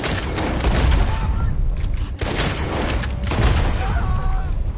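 Gunfire in Red Dead Redemption 2, several loud booming shots and thuds overlapping in a dense burst, with voices talking faintly underneath.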